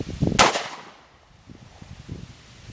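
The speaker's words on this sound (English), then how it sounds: "Now I'll shoot the HST 124 grain plus P." A single sharp gunshot from a Federal Premium 9mm +P 124 grain HST round fired at a gel test, loud and close, followed by a fading tail and faint background rustle.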